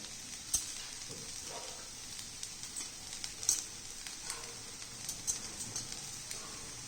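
Poha is stirred in a pan over a soft, continuous sizzle, with light scraping and tapping from the spoon coming in irregular bursts, fairly quiet and close.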